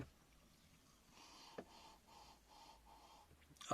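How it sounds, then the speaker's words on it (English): A person takes a glass of beer to the nose and sniffs it in a quick series of short, soft inhalations, faint and close, with no talking. "let's have a sniff."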